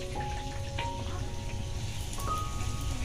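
Poa pitha rice-flour batter cakes fry in hot oil, giving a steady, close crackling sizzle that holds evenly throughout, with faint tonal hums sitting underneath.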